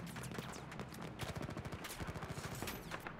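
Rapid gunfire in a Battlefield 4 battle, a dense crackle of repeated shots with faster bursts toward the end, heard alone.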